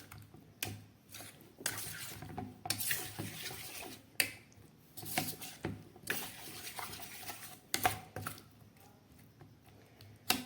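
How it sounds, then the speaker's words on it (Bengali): Soaked cauliflower pieces are mixed by hand or spoon in a bowl, producing close, irregular clacks, knocks and wet shuffling that recur every second or so, with no talking. "খুব ভালো করে আমি মিশিয়ে নেব"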